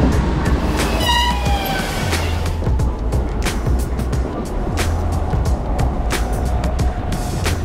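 Rumble and rattle of a train in a general class carriage, with steady low-frequency clatter throughout and a brief horn toot early on, loud and continuous.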